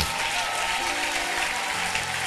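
A church congregation claps and cheers together in a brief, dense burst of applause.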